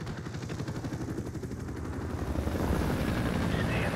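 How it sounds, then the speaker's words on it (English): An enemy helicopter in the video game Call of Duty 4: Modern Warfare thuds with a rhythmic rotor chop that grows louder and nearer, mixed with game noise while a voice speaks over it. "Enemy helicopter, get down."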